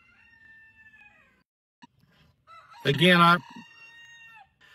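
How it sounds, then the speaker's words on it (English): A rooster crows loudly nearby in one long, strained call, with a person speaking briefly before it. "I apologize for all the crowing going on in the background."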